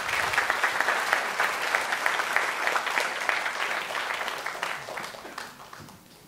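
A lecture audience applauds Goenawan Mohamad, sustained clapping from a sizeable crowd that gradually tapers off toward the end.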